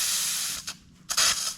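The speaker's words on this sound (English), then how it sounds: "Pressurized running water." Pressurized water spraying from a garden hose on an off-grid water system, a loud broadband hiss that briefly cuts out, sputters, then surges back strongly, close by.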